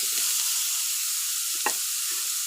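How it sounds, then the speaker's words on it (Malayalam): Chopped banana stem goes into a pan where urad dal is already frying. A steady, bright sizzle runs throughout, with one brief soft thud and splash as the stem lands, close by. "നമുക്കതിലേക്ക് വാഴത്തണ്ട് അരിഞ്ഞു വെച്ചിരിക്കുന്നത് ചേർത്ത് കൊടുക്കാം."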